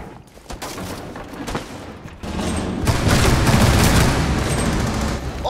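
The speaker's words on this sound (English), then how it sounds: "Oh, I shot him." Gunfire in the video game Rainbow Six Siege, a dense rapid burst of shots and loud rattling fire that grows heavier partway through, close and loud, with no talk over it.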